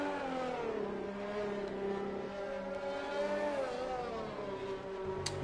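Onboard race car engine in a sim racing game, droning steadily at high revs with gradual pitch shifts through gears, loud and continuous, with a brief sharp click near the end.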